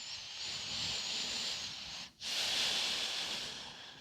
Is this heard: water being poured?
no